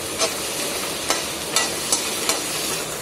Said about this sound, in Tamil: கொஞ்சமாக எண்ணெய் விட்டு வெங்காயம், கருவேப்பிலை, கொத்தமல்லி அண்ட் தேங்காய் நல்லா வதங்கட்டும்